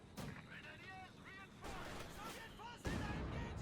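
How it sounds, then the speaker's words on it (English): An Su-76 artillery barrage in Company of Heroes 2 booms in several heavy blasts amid battle noise, partly under a caster's voice talking. "Artillery barrage flying there from the Su-76, trying to hit whatever is in the center"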